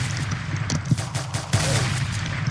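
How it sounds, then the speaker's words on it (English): Gunfire in the Roblox game Prison Life, rapid bursts of shots crackling in quick succession over a steady low game background, no talk. "I hear so much gunfire too."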